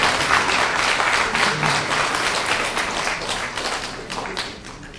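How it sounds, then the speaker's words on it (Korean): Steady applause from an audience at a Korean mayoral campaign talk, a dense wash of many hands clapping that holds loud and then eases slightly toward the end. "박수 치셔도 됩니다."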